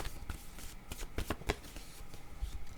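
A deck of oracle cards shuffled during a card reading: a quick run of crisp riffling and flicking bursts, close and fairly soft, with no talking over it.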